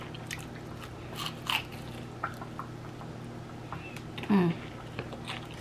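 A single crunchy bite into a fried pickle, hard-fried at home, lands near the mic with a short crisp crackle, followed moments later by another brief crunch against a quiet room hum.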